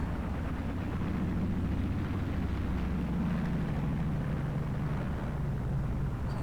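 The Spitfire's aircraft engine in the X-Plane 11 flight simulator drones as a loud, steady, low rumble that continues without a break.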